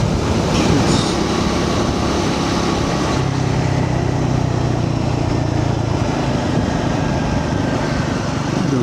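Triumph 400 XC motorcycle cruising in fifth gear at 4,000 RPM and about 45 mph, a steady engine drone under loud wind rush, with a tone shift partway through and no talk.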